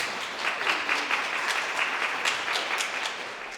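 Audience applause at a food innovation summit, a dense sustained clapping from many hands that swells slightly and holds steady throughout, fairly close and with no speech over it.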